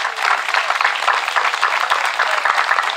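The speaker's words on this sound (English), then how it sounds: "round of applause." A crowd at a Memorial Day gathering claps for veterans in a sustained, dense round of applause that stays loud and even for the whole stretch.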